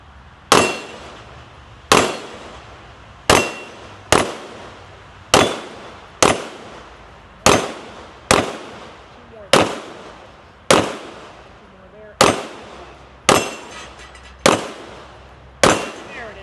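Gunshots at a defensive shooting drill, a dozen loud sharp reports spaced about a second and a half apart in a steady rhythm, each with a short ringing decay, with no talk between them.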